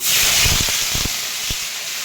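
Whole spices (cardamom, cinnamon and cloves) frying in hot mustard oil make a steady, close hiss with a few soft low knocks as the pieces settle. No one talks.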